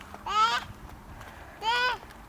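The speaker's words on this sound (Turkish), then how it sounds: "Gel tavuk gel." Two loud, nasal honking calls from a nearby chicken, spaced about a second apart, against a quiet background.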